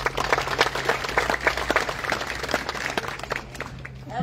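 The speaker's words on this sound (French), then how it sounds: "Vous pouvez applaudir" Audience clapping at the inauguration of a memorial garden in Louvroil, a steady round of moderate applause from a small outdoor crowd, fading near the end as a voice begins speaking.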